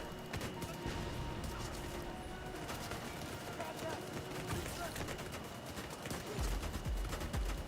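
Rapid gunfire from automated turrets in The Division 2 crackles through a dense, continuous in-game battle, with overlapping shots and impacts staying steady and loud for several seconds.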